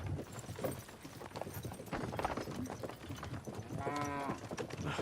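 Horses' hooves clip-clopping as they pull a cart in Kingdom Come: Deliverance 2, a steady close patter of hoofbeats with a brief drawn-out animal call near the end.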